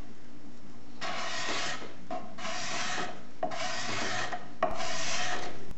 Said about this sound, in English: Lots of scraping and more sanding.